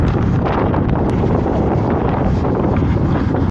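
A strong headwind roars continuously into the microphone during a fast road-cycling descent on a UK sportive, a loud, dense buffeting rush with no voices.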